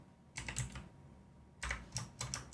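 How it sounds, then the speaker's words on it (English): Computer keyboard typing in a home workspace: two close bursts of rapid key clicks separated by a brief pause, crisp and fairly quiet with no talking. "I kind of like it actually, the sound of a keyboard"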